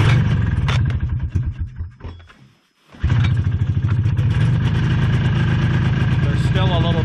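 A Yamaha Bravo snowmobile engine, still cold after a choke-assisted pull start, idles with a loud, close, rapid putter, dies away briefly, then picks back up into a steady idle.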